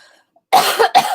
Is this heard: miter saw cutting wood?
no